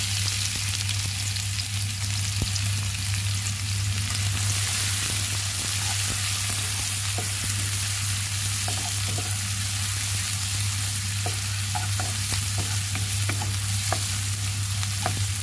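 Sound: stir-frying shallots and garlic in a pan

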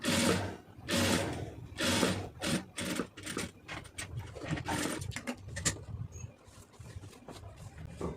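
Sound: sewing machine stitching lace round neckline

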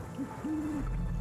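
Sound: owl hooting in the video game Dark Parables 10

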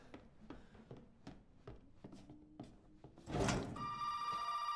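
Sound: telephone ringing in the video game Resident Evil 7

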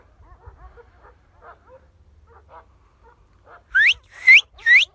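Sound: dogs barking

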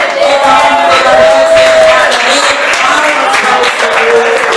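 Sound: church congregation clapping

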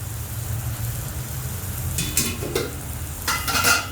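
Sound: stirring carrot halwa in a pan

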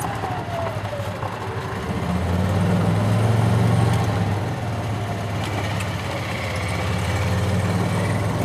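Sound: 1991 Club Car DS gas golf cart driving

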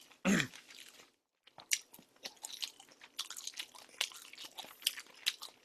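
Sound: eating Vienna sausage in a mukbang

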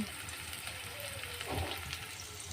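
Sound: onion, garlic and green chilli frying in a pan

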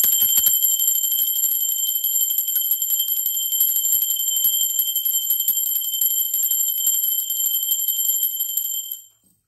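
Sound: bell ringing

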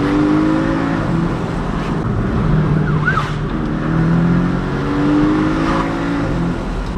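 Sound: Porsche engine accelerating hard in second gear

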